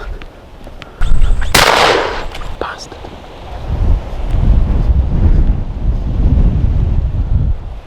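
A gunshot cracks out sharply while hunting a cock pheasant in windy bush country, one loud report followed by gusty wind buffeting the microphone.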